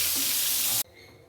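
Small pieces of pointed gourd (potol) frying in hot oil, a loud, steady broadband sizzle that stops abruptly near the end, leaving a faint, quiet hiss.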